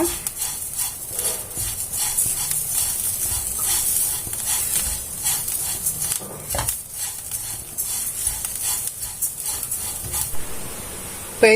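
Grated coconut is stirred and dry-roasted in a pan, a steady hiss with repeated scraping of the spatula against the metal at close range and a single sharp knock partway through.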